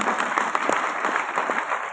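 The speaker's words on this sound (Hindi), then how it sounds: "एक बार जोरदार तालियां होनी चाहिए।" An audience at a talk applauds, a dense burst of clapping that holds steady and fairly close for the whole brief moment, with no speech over it.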